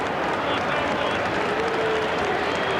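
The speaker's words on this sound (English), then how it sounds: "And the crowd already applauding." Rugby league crowd at a 2001 NRL match between Newcastle and Parramatta, a dense, steady wash of applause and crowd roar filling the stadium, with a commentator talking over it.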